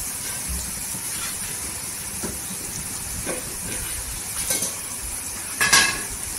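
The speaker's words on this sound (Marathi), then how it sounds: "मिरची पण तेलावर परतून घ्यायची।" Cut green chili frying in hot oil for a dried shrimp curry, giving a steady broadband sizzle and hiss throughout with a few brief stirring scrapes and a louder crackle near the end.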